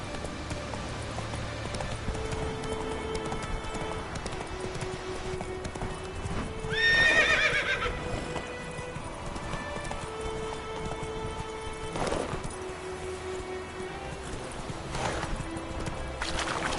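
The horse Roach gallops in a video game, its hooves drumming steadily, with a loud neigh partway through, then sharp knocks and continued running, with no one talking.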